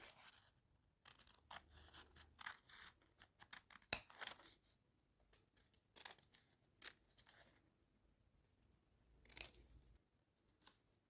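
Scissors snipping through fabric while cutting a sewing pattern for the chest area of a garment, quiet intermittent clusters of close crisp cuts with gaps between them.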